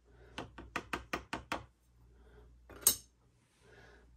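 A utensil stirs a smelly silver toning solution in a container, giving a quick run of six crisp, evenly spaced clinks, then a pause and one brighter, louder clink, close up in a quiet room.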